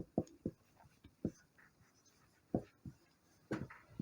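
Handwriting during a lesson produces a series of quiet, close pen strokes and scratches in irregular bursts, separated by short pauses.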